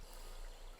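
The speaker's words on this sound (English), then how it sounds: "we're going to take 2 ounces of rum. I would pour generously here" Rum poured generously into a glass of ice with lime wedges and mint, a short steady liquid stream with a soft trickling hiss, close and continuous throughout.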